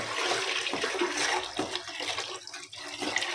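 Seven glasses of water are poured into a pot of rice for a Sunday pulao, producing a steady, close rush and splash of pouring liquid with slight surges and a brief dip near the end, no voices.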